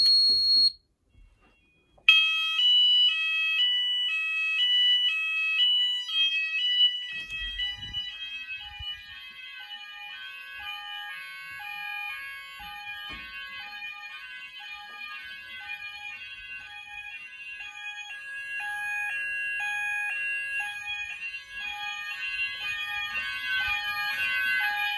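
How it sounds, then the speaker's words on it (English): An Apollo XP95 fire alarm system in a house, sounding in evacuate test mode: a loud, continuous electronic alarm tone that warbles in a rapid repeating pattern for about twenty seconds after a short pause, with faint handling noise beneath. "We're going to press evacuate now."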